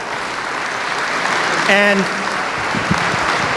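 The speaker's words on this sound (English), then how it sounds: "Sam and Alice, give them a round of applause." An audience at a memorial gathering gives a round of applause for Sam and Alice Viola, sustained dense clapping with a brief spoken word and a tonal voice-like sound rising over it midway.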